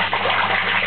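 Water pump sucking in and spraying water, a loud continuous gushing rush that stays steady and close for the whole short stretch.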